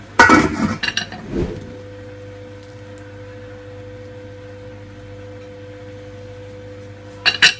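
Metal pot lid set back onto a cooking pot with misua and odong noodles, a couple of close clinks and rattles at the start, then a low steady hum of the stove, with another brief clatter at the end.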